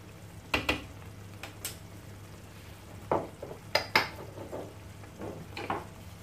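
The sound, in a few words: mixing spices in a pot for eggplant tajine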